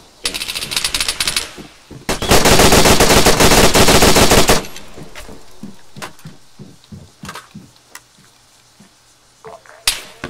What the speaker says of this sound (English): I hear gunshots, watch it.